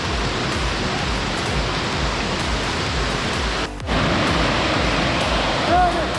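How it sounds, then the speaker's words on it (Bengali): Damtua waterfall in Alikadam, Bandarban pours with a steady, dense roar of falling water. The sound is loud and continuous, with a brief dip partway through. "এটা একটা ঝর্ণা, বাট নাম জানি না এটা ঝর্ণার নাম কি ঝর্ণার"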